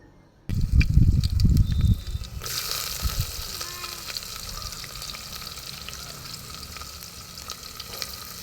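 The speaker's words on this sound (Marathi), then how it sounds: "थोडीशी मोहरी आणि वरून कांदा घालून हे मिश्रण छान परतून घ्यायचं" Mustard seeds, cumin, curry leaves and onion sauté in a pan over a village wood-fired stove for chicken rassa. A loud, close, crackling burst hits first, then settles into a steady, even sizzle with occasional stirring scrapes and no talk.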